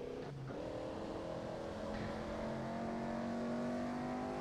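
A car engine drones and revs steadily in the Assetto Corsa racing game at high speed, a sustained moderately quiet whine with shifting tonal bands and no pauses.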